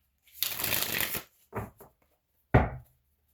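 A tarot card deck being shuffled by hand: a long riffling burst followed by two shorter ones and a final sharp snap, close and clear with silence between.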